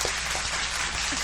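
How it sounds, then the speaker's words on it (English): A brief round of applause from a live-streamed audience after a donation thanks, dense, even clapping filling the whole moment at moderate loudness with no voices over it. "Round of applause."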